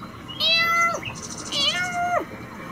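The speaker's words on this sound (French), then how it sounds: "des chats qui se bagarrent" Cats fighting: two drawn-out, wavering meows, loud and close, the second with a rising then falling pitch, separated by a brief pause.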